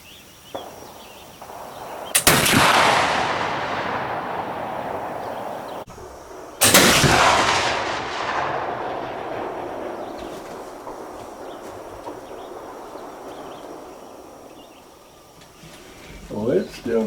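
A flintlock Kibler Fowler muzzleloader fires round ball twice outdoors, each a loud booming blast with a long echoing decay. The shots are a few seconds apart, with faint sounds before and after.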